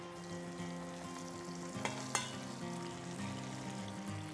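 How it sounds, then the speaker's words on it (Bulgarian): Peppers frying in hot oil in a pan give a steady, close sizzle and crackle throughout, with a couple of sharper pops near the middle and no talking. "Ще ги пържа по около 2 минутки от всяка страна."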